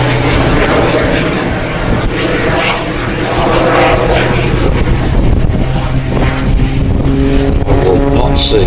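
Rich Goodwin's jet-powered Pitts Special aerobatic biplane performing at an air festival gives a loud, sustained engine roar that swells and shifts in pitch, taking on a tonal whine toward the end.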